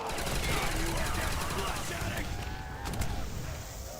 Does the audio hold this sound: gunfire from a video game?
yes